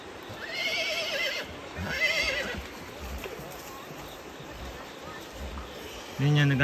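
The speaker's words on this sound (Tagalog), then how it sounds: "Tignan sila, nagpapaligo ng kabayo." Two horse whinnies ring out in quick succession early on as horses are bathed outdoors, followed by outdoor noise with faint hoof movement and a brief voice at the end.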